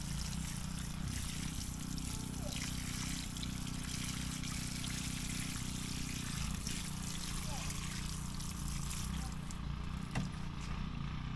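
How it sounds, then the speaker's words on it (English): Water poured over the soil around a newly planted, rootbound pineapple guava bush outdoors, a steady trickle and splash lasting throughout while a person talks. "Water right on top."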